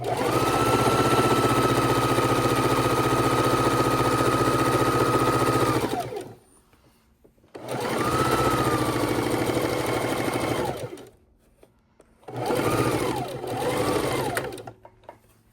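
A sewing machine runs in three bursts of fast, steady stitching, close and loud, with short quiet pauses between runs, sewing quilt strip seams.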